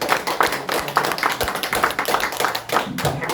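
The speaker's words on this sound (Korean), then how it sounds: "자, 우리 앞으로 박수로 한번 감사하고" An audience at a church lecture on the Gospel of John claps in thanks, a brisk, fairly loud patter of hands with audible individual claps and some murmuring voices over it.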